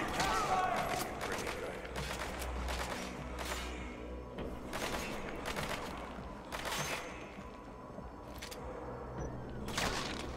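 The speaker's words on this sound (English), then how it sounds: "Reload! Suppressing fire! I have fire!" Sustained suppressing gunfire in the Metal Gear Solid V video game, with rapid repeated gunshot bursts and thuds over a dense, loud battle background, while voices shout.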